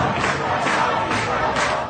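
An enraged crowd in Iranian news footage roars continuously at loud, steady volume, many voices blending into a dense shouting mass with surging swells.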